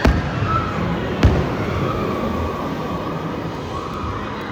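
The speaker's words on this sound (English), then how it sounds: "Look at that, fireworks." Fireworks at Magic Kingdom pop in the distance, a couple of sharp bangs at the start followed by a muffled crowd and ride ambience.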